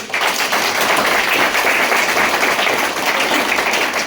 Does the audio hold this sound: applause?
yes